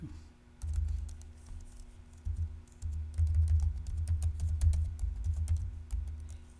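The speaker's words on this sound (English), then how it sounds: "And I am doing it old school style, typing it in." Typing on a computer keyboard, a quick, steady patter of close key clicks running for several seconds, alone without talk.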